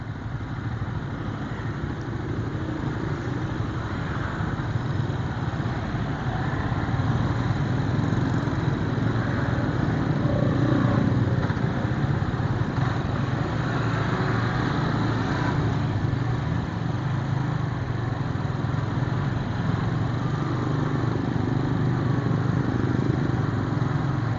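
A motorcycle creeps through a traffic jam in Serang, its steady low engine drone mixed with surrounding road traffic noise for the whole stretch, close and continuous with no clear voices.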